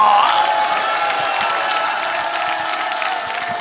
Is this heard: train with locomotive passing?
no